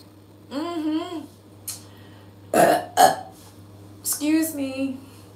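Two loud, drawn-out human burps, each with a rumbling voiced quality, are separated by a short sharp throaty sound in a quiet indoor space, and no talking is heard.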